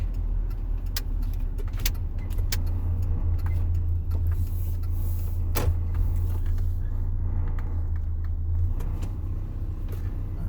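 A truck pulls into a parking lot, its engine a steady low rumble throughout with a few faint clicks and knocks inside the cab, no talking.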